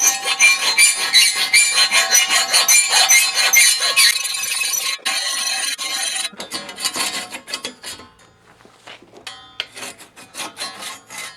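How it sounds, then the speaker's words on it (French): A hand file rasping along the edge of a metal shield, steady close back-and-forth strokes, then shorter separate scrapes with brief pauses. "pour lui donner forme comme il faut, je vais prendre une lime"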